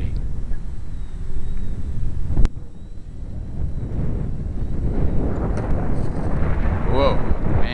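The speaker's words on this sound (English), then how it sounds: "It's getting really windy now." Strong wind buffets the microphone of a remote-controlled aircraft flown in high wind, a steady rough roar with a sharp knock midway and whining motor tones late on, while someone speaks over it.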